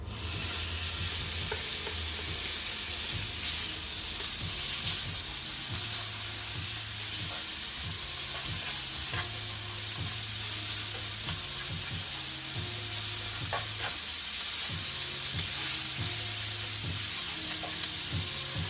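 Food sizzles steadily in a non-stick pan for chicken carbonara, a loud continuous frying hiss broken by repeated scraping strokes of stirring at a regular pace.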